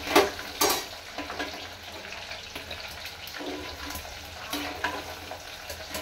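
Garlic and urad dal frying in hot oil in a pan, a steady low crackling sizzle with occasional sharper pops and spatters, faint and continuous with no talk.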